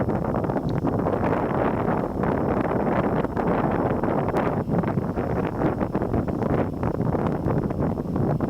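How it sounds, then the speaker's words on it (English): Strong wind gusts on the seafront outside Tokyo Sea Life Park buffet the microphone in a steady, rumbling roar with brief louder surges. "So windy."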